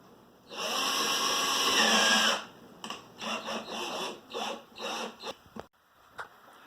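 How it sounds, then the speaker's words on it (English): A power drill bores holes into the top of a plastic bottle, first one long steady whine, then a run of short bursts as more holes go through, close and loud with no talking. "The first thing that we want to do is drill the holes in our top of the bottle"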